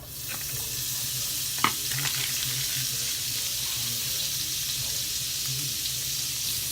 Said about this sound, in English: Now what I'm gonna put here is 3 tablespoons of butter